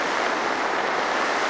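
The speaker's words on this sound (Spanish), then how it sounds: "continúa lloviendo copiosamente" Heavy rain pours down at Alquería de Aznar, Spain, a dense, steady hiss that stays constant and close throughout, with no voices.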